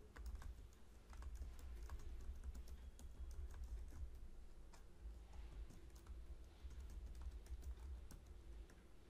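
Someone types on a computer keyboard, giving a quiet, steady run of key clicks against a low hum.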